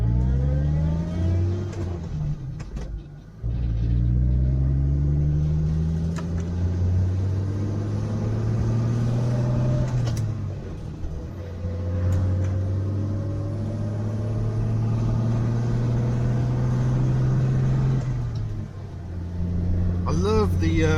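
A post-war Rover 75 P3 pulls away from rest, its engine note rising and falling through gear changes with a brief pause near the start, heard from the driver's seat under steady talk.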